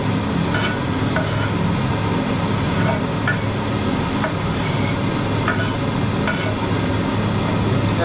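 Onions and garlic sizzling in a pan for an oxtail stew, a steady frying hiss with scattered stirring scrapes and light clinks throughout, close and moderately loud, no talking.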